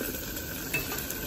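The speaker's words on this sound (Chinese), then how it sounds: "一般比较难熟的食物 用中小火煎它，而且要勤翻动，" Chicken wings fry over medium-low heat in a Cantonese clay pot and get turned often. A low, steady sizzle continues throughout with a faint scrape of stirring, and no voices are heard.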